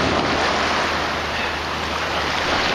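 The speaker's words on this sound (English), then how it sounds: "the waves aren't too bad. They're just kind of rolling in here a little bit." Ocean waves rolling onto a shore make a continuous, dense wash of surf. It stays loud and steady from start to finish with no clear breaks, and no one speaks.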